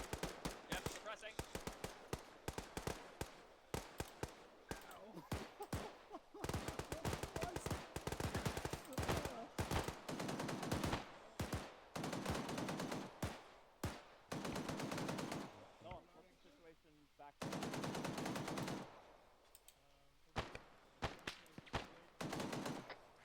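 Long bursts of suppressing machine gun fire in the military shooter Arma 3, loud and close, rattling in repeated volleys separated by short gaps, with voices talking briefly at points.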